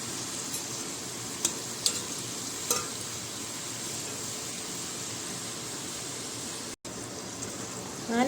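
Small pieces of maida dough frying in hot oil give a dense, even sizzle that carries on steadily throughout, broken by a few soft clinks and one brief gap.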